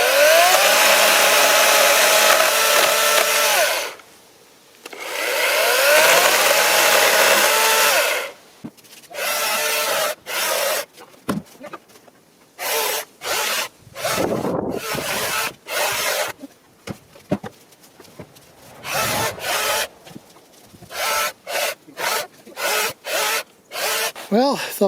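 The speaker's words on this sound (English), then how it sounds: "Chainsaw on." A chainsaw cuts into old beech tree wood set on a flimsy sawhorse, its loud rasping engine running continuously at first and then breaking into many short, choppy bursts separated by brief pauses.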